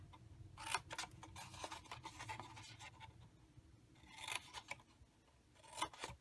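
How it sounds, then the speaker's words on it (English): Scissors snip a miter into the middle flap of a paper craft box, a few short crisp cuts rising out of a quiet room, with brief rustles of paper between them. "we're going to miter the middle flap here."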